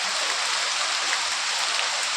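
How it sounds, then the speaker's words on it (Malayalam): Steady, dense hiss of rain falling, an even wash of drops with no pauses and no voices. "ഇപ്പം ഒന്ന് മഴയാണ് കേട്ടോ"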